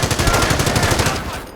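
Rifle fire in the Company of Heroes video game, a rapid, loud burst of automatic shots rattling in a fast even rhythm that fades out after about a second and a half.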